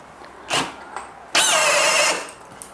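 A Makita DHP487 cordless hammer drill set to gear 2 whines briefly, then runs loud for under a second before cutting out under load, with a couple of short mechanical bursts before it.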